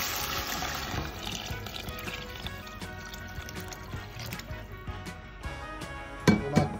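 Cold water poured into a pan of pasta with peas and crisp pancetta, a steady trickling splash with faint sizzle that runs for several seconds, then a couple of sharp clinks near the end, and no talking.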